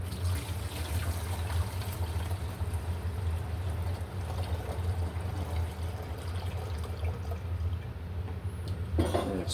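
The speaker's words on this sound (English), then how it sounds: "Pour that into our fermenting container." Strawberry and watermelon wine must poured through a funnel into a fermenting container, a steady continuous gurgling liquid flow under a low hum, ending with a brief clatter.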